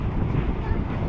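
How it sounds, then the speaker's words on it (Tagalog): Gusty wind buffets the microphone outdoors, producing a loud, low, continuous rumble with irregular pulses throughout the short stretch. "Tinutulak kayo ng hangin."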